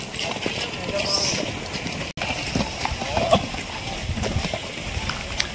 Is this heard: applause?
no